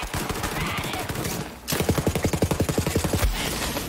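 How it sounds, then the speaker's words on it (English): Turret fire in Borderlands 3, with a dense rapid volley followed by a faster, regular string of loud shots that stops abruptly near the end. "that turret is deadly"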